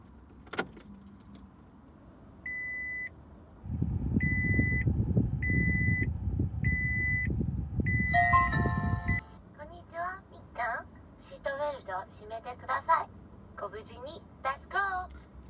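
A homemade DIY melody box tucked inside a Subaru WRX gives a run of evenly spaced electronic beeps over a low engine rumble, then a wavering melodic tune plays on after the engine noise drops away.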